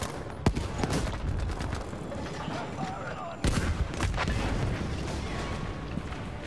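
Bursts of heavy anti-aircraft gunfire and booms crackle through a dense, noisy video game battle soundscape in Battlefield 5, with a sharp loud blast near the start and another midway.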